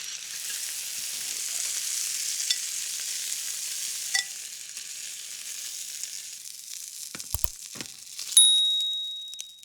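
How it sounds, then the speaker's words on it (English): Bone-in chicken thighs searing in a hot pan, a steady bright sizzle and crackle close by, with a few clinks and a brief ringing tone near the end. "First, I'll start by searing my chicken thighs."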